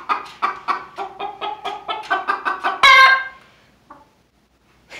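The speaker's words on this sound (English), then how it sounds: "They're funny. Some funny chickens." Backyard chickens cluck in a quick, loud series of repeated calls, ending in a louder squawk, then a brief pause and one faint cluck before another starts.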